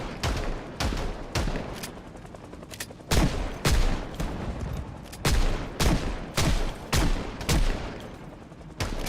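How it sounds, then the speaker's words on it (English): Gunfire at zombies in Project Zomboid: repeated loud, close gunshots in an uneven rhythm, some single and some in quick pairs, with little else heard between them. "Shooting at these zombies like it's supposed to be House of the Dead"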